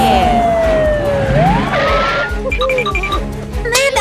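A police siren wails with sweeping, rising and falling tones over engine rumble, joined by short chirping siren bursts toward the end.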